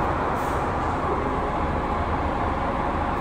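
A DAF CF85 Euro 6 truck diesel engine with a recurring fuel pressure fault runs steadily, giving a constant, close, even rumble throughout with no voices.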